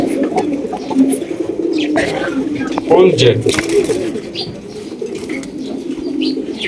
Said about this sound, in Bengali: এখানে কিন্তু রয়েছে এক জোড়া ব্ল্যাক টেল মার্ক কবুতর